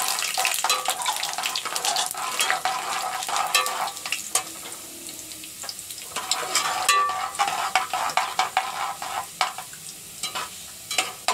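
Garlic, cumin and red chillies frying in a pan with a steady sizzle, broken by repeated scrapes and clatters of a spoon stirring them, loud and close with no voices.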